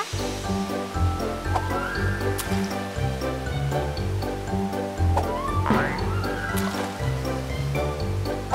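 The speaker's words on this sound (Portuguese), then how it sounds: "você poderia fazer uma corrente d'água no formato de uma argola" Cartoon water effects play as a stream of water is shaped into a ring, with a continuous rushing, splashing wash layered under music and chimes that runs unbroken throughout.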